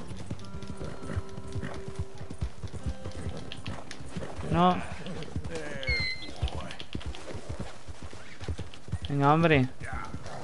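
A horse's hooves clip-clopping in Red Dead Redemption 2, a steady rhythmic gallop throughout with two whinnies, someone speaking briefly over it.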